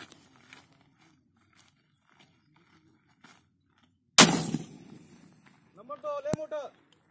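A single 51mm mortar round fires outdoors with a sudden loud blast and a decaying rumble, followed by a short burst of voices; quiet ambient noise precedes the shot.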